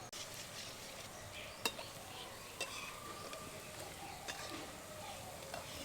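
Steady sizzling of potatoes frying in very hot oil, a soft crackling hiss throughout with a few sharp clinks of a utensil against the pan.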